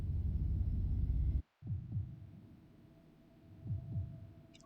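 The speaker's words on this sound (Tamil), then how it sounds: "ஹார்ட் பீட் தான் அடிக்குது." Heartbeat effect in the horror video game Fears to Fathom: Home Alone, with a loud low rumble that cuts out abruptly, then a few soft, low thumps spaced irregularly over a quiet hum.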